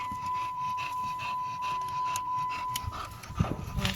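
A chow chow dog pants steadily at close range, quick rhythmic breaths running throughout, with a few louder bumps and movement sounds near the end.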